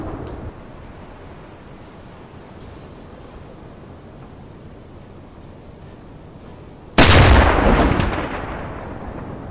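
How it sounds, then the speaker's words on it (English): A single loud gun blast in the UBOAT submarine game fires a finishing shot at a ship. It follows a long stretch of low rumbling sea and engine ambience, then rolls off in a booming decay. "A couple of finishing shots."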